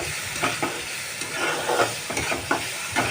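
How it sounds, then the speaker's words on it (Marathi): Green masala paste fries in oil in a pan for Maharashtrian chicken rassa, a steady close sizzle broken by repeated scraping stirs of a spatula, with no talking. "हे हिरव्या मसाल्याचं वाटण तेल सुटेपर्यंत आपण परतवूयात"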